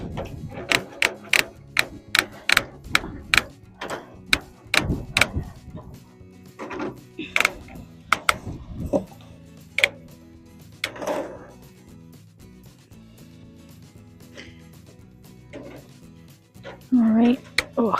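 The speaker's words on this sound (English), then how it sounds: "staple it there" Staple gun fastening wire mesh onto a wooden chicken coop frame, a quick run of sharp close clacks followed by scattered single snaps with quiet gaps between.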